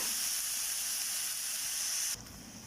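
Sliced tomatoes sautéing in a pan for paneer kofta curry, giving a steady bright sizzle and hiss that drops slightly in level near the end, with no talking.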